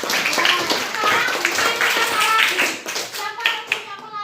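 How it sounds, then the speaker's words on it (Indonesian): Elementary school class of fourth graders clapping hands together in a classroom, a lively burst of quick claps mixed with children's voices. "tepuk tangan untuk Tisha."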